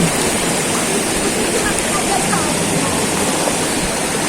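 A waterfall in General Nakar, Quezon, throwing up smoke-like mist, roars as a loud, continuous broadband rush of falling water with no break.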